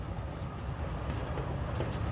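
Train running in the video game Forgotton Anne, a steady rumbling rolling noise throughout with no distinct clacks, moderately loud and continuous.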